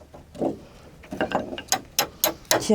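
A ratchet wrench tightens bolts while assembling the sandwiched base of an A-frame house, giving several short bursts of rapid clicking at close range with brief pauses between them and no talk.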